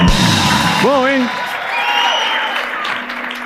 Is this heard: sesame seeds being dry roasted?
no